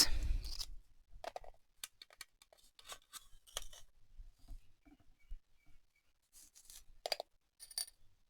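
Scissors snip through yarn loops while making tassels, giving a few sharp, isolated clicks and snaps spread across quiet stretches, close and fairly soft, with no voices.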